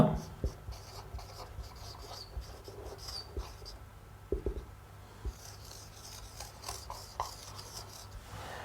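Marker or pen writing the momentum formula, with close scratchy strokes and small taps in short bursts, with light background noise.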